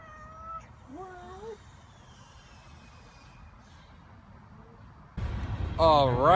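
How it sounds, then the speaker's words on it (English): A cat meows several times, a few short rising and falling calls up close early on, then a louder drawn-out wavering yowl near the end over a rumbling background, with no speech. "So this is a cat that brought all those presents."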